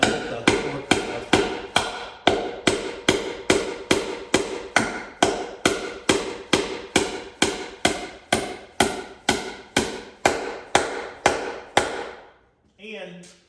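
A hammer strikes steadily on a section of railroad track used as an anvil, about two dozen loud, evenly spaced metallic blows with ringing decay, stopping near the end.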